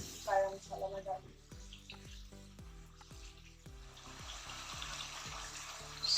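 Kalonji seeds and spices cook in oil in a pan, giving a soft, steady sizzle that builds toward the end, along with some sharp tonal knocks and clatter nearby.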